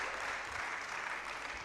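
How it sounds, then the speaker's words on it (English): An audience applauding at a science week event, a steady wash of clapping heard from a distance, fairly quiet and even throughout. "Please, round of applause for Apollo."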